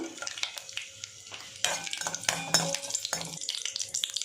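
Garlic frying in oil in a kadai, with a steady crackling sizzle broken by frequent scrapes and clinks of a spatula against the pan, close and continuous.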